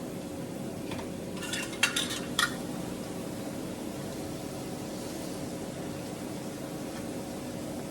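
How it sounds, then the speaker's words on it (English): Utensil scraping and clinking against a pan as tomato paste is stirred into garlic over lowered heat, a few sharp metallic taps near the start over a steady low hum and faint sizzle. "I'm just mixing that tomato paste in really well, making sure it's absorbed in the garlic"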